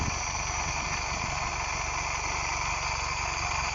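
A General Motors vehicle's engine idles roughly, a loud, close, unbroken mechanical drone holding steady throughout.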